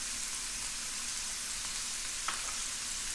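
Onion is added to a pan of browned sausage frying on the stove, giving a steady, even sizzle throughout with a faint stir or clink near the end.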